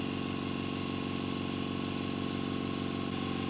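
Electric motor of a woodworking machine running with its cooling fan exposed, a steady close droning hum with a fast rhythmic pulsing whir, continuous and fairly loud without speech.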